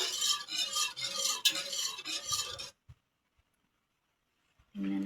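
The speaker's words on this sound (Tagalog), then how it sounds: "Habang nagpapakulo ka, dapat hinahalo mo siya ng hinahalo para hindi mamuo." A spoon scrapes and clinks against a pot while a boiling jelly mixture is stirred, in quick, rhythmic strokes for a few seconds before a pause, then a brief burst of bubbling.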